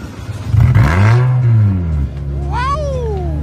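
A custom car fitted with an old Dress Up King aftermarket muffler revs loud and close, its exhaust note swelling and falling back, then a second rising, whistling surge near the end. No one speaks.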